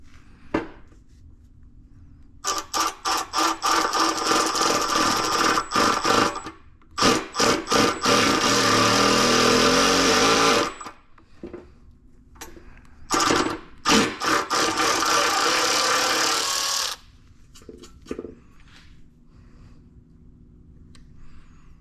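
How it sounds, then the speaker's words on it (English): A power drill fitted with a number 21 bit bores into metal on a Can-Am Defender, its whine coming in two long, loud runs broken by short stop-start bursts, with quiet pauses between. "we are using a number 21 drill bit"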